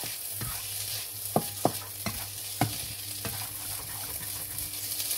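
Black rice with ham and eggs fries in a pan under a constant sizzle, with a spatula stirring and scraping against the pan in several sharp clicks, close and continuous.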